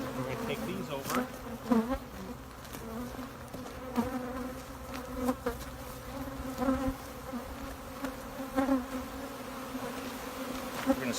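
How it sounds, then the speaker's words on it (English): Honeybees from a queenless colony buzz at an open hive, a dense close drone with individual bees swelling past, steady throughout with no talk. "these bees I know are queenless"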